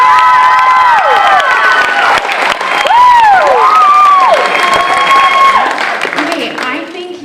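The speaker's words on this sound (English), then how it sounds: "give her a round of applause" A school talent show audience bursts into loud applause, cheering and high whooping shouts that sweep up and down in pitch, sustained and close.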